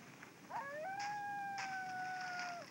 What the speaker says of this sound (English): Look at this wolf.